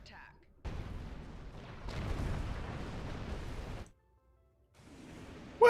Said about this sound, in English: I just go like full impulse and they just go kablooey